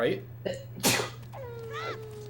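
A single sharp human sneeze, close and loud, after a short spoken word and followed by a brief nasal whistling sound.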